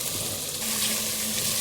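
Ground spices are stirred into onions frying in a pot for chicken pulao, giving a steady close sizzle with soft scraping and bubbling for a brief moment.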